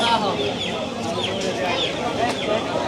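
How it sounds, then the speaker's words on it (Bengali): Many chickens from Gazipur for sale at Shibrampur village market in Bangladesh, a dense flock clucking and squawking continuously nearby, with market voices murmuring underneath. "দেখেন অনেক মুরগি"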